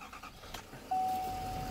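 A 2015 Chevy Silverado pickup truck, a salvage vehicle with many warning lights on, starts with a brief crank and then catches into a steady, close engine idle.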